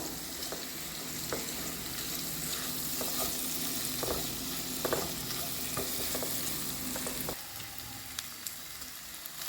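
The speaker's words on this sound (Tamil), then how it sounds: "இது எல்லாமே சேர்த்து கீழே கொஞ்சம் நேரம் நல்லா வதக்கி விடுங்க" Paneer and vegetables sautéing in a kadai, a steady close sizzle of frying with occasional scraping stirs of a spoon against the pan, continuous throughout.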